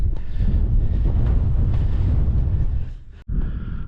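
Strong wind buffeting the microphone on a hillside path near a trig point, a loud continuous rumbling roar that briefly drops out near the end before resuming.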